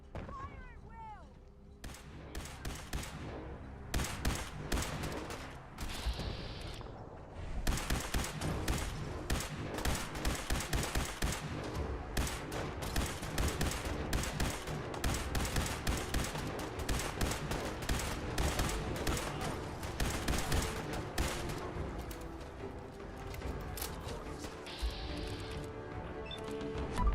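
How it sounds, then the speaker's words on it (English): Rapid, sustained gunfire volley in Fallout 4's Commonwealth, dense overlapping shots and bursts running nearly continuously at close range, with voices mixed in. "Fire at will!"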